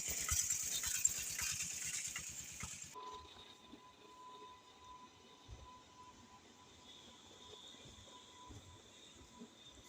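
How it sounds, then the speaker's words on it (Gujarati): A train at Jetalsar railway junction in Gujarat rolls past, first with rhythmic wheel clatter and a bright hiss, then settling into a quieter low rumble with a faint sustained tone. "જેતલસરના રેલવે જંકશન આવી ગયા છે."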